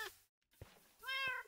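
Minecraft cats meow twice in a game, each a short, clear, pitched mew separated by a brief silence, the second one louder and longer, near and alone with no talk over them.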